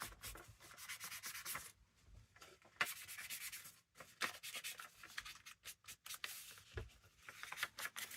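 Paper edges are inked for a craft pocket with a quiet, close rubbing and dabbing of an ink pad, in short repeated strokes with small pauses between them, faint and alone.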